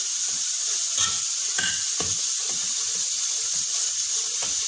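Mutton with red chili powder and dried coriander powder frying in a pan, a steady bright hiss of sizzling oil with a few soft clinks and stirring scrapes, close and continuous without talk.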